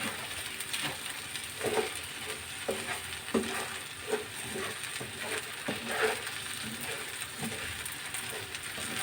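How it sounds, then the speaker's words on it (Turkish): Rice sautéing and being stirred in a pan with salt added, giving a steady low sizzle broken by repeated scraping strokes of a utensil, close and moderately quiet, with no voices. "Güzelce kavuruyoruz pirincimizi."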